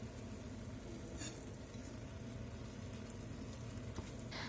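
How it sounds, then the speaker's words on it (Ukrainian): Steady frying sizzle of beetroot in butter in a pan, a continuous crackling hiss with occasional faint clinks, no talking. "На розігріту пательню додаємо вершкового масла і кладемо буряк."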